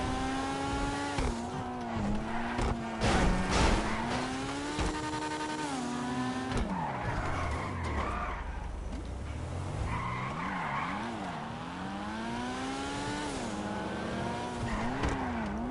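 A car in GTA Online skids with long tire squeals over a revving engine, its pitch sliding up and down through the slide, loud and close and continuous for the whole stretch.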